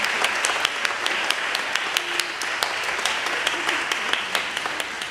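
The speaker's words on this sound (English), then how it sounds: "I invite you all to give your applause" A church congregation applauds during a Sunday service, with sustained, even clapping from many hands throughout, loud and close.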